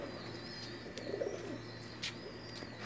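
Pigeons of fancy breeds kept at a Pakistani pigeon fancier's home cooing softly, with a few faint chirps and a low hum behind, quiet and alone without talk.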